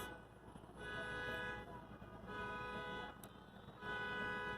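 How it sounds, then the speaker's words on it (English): A vehicle horn honks in several long, sustained blasts with short gaps between them, heard from some distance over a steady background hum of traffic. "Allowing the honking to go through me"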